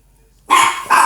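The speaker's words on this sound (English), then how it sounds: "And there's the dogs barking." Dogs bark loudly and close by during a fall fishing outing on a Vermont lake, two bursts of barking breaking an otherwise quiet moment.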